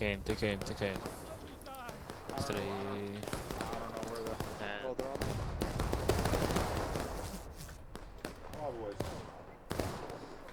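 Musket volleys crack in a dense, ragged burst of overlapping shots on a game battlefield, with scattered single reports around it and voices talking over the gunfire.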